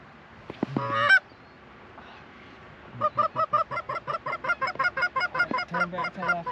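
Early-season Canada geese honking during a spot-and-stalk goose hunt, a burst of overlapping calls followed by a steady, rhythmic series of honks at moderate distance.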